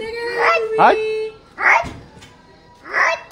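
A small dog gives a few short yips and whimpers, close by, mixed in with people talking.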